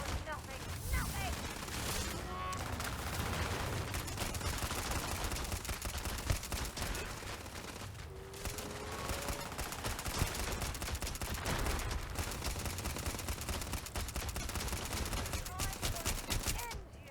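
Rapid gunfire from a Starfield firefight, dense bursts of shots rattling continuously for the whole stretch, loud and close, with a voice speaking briefly over the shooting.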